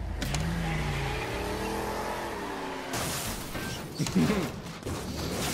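Racing car engine in a Garry's Mod game, a steady droning whine with shifting pitch, then rougher revving and skidding bursts toward the end, close and fairly loud with no talk.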